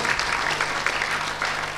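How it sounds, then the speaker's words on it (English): Theatre audience at an awards ceremony gives a round of applause, dense continuous clapping from a sizeable crowd, loud and even for the whole stretch. "Let's give Martin a nice round of applause."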